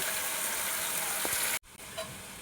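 Taro stolons (kochur loti) fry in hot oil in a pan with a steady broadband sizzle, which breaks off abruptly near the end before a softer sizzle resumes; no talking.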